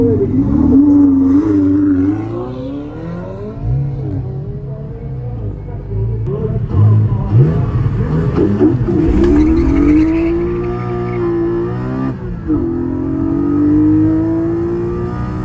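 A Bugatti Chiron pulls away hard under launch control at a supercar festival runway, its engine note rising and swelling loudly over about fifteen seconds, with crowd voices mixed in.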